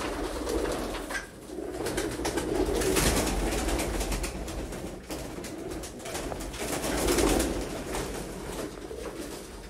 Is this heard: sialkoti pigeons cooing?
yes